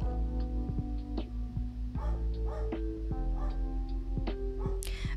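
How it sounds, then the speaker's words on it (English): A pet dog barks and yips a few times in a home storage room, the short calls fairly faint and somewhat distant over a steady low hum and tonal background noise. "apologies if you can hear my dog"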